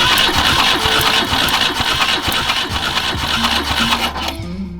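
A BMW 2002 engine with a Weber 32/36 carburetor cranks during a cylinder compression test. Rapid, rhythmic chugging is heard up close and loud, then cuts off abruptly near the end.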